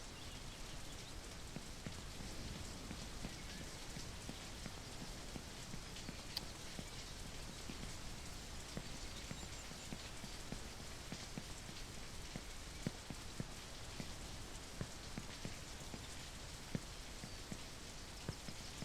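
Steady rain falls across the full span of the Only Up! game world, a dense even patter of drops striking surfaces, with occasional sharper taps; no voices.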